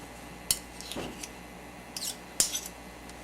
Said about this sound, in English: Use a knife to get them out of there.